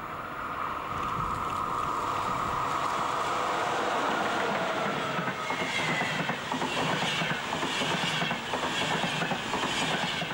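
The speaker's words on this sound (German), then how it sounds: "So rollen im grenzüberschreitenden Verkehr nach Luxemburg E-Loks der Baureihe" A Class 181.2 electric locomotive rolls steadily along the rails with a continuous rumble, wheel clatter building as it passes close by.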